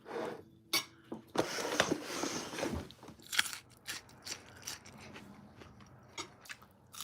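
Crunchy, lightly cooked asparagus being bitten and chewed close up at a breakfast meal, with crisp snaps and moist chewing mixed with faint clinks of cutlery and dishes, all fairly quiet.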